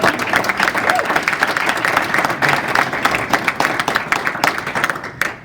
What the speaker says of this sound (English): let's give him applause right now.